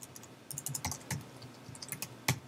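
Computer keyboard keys clatter in quick, uneven bursts of close clicks, with short pauses between runs of typing and one louder keystroke near the end.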